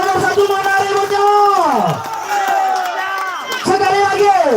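A crowd at an open-air village head campaign rally roars and whoops in waves, loud and close, with excited voices rising and falling in bursts across the crowd.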